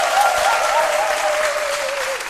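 A studio audience at a French midday television show applauds in a steady, loud wash of clapping, with a thin sustained tone running over it.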